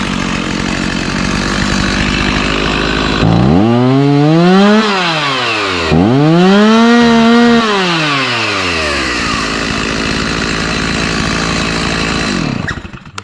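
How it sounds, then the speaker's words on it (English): A Stihl MS 290 chainsaw, freshly fitted with a replacement carburetor, runs loud and close, holding a steady idle and then revving up and back down twice in smooth rising and falling sweeps before settling again. "The stihl MS 290. It's back in action."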